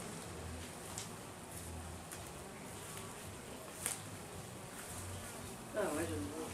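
An insect buzzes steadily while hovering just in front of a beehive outdoors, a faint continuous drone with a louder pass midway, and people talk quietly near the end.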